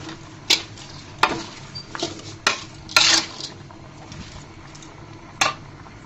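Raw mango pickle is stirred in an uncovered pot, producing intermittent scraping clinks of a spoon against metal over a soft background simmer.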